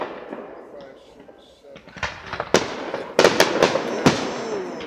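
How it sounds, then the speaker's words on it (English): Fourth of July fireworks bursting in a series of sharp, loud bangs and crackles, spaced irregularly and growing denser toward the end, heard at a moderate distance outdoors, with faint voices in the background. "watch the fireworks."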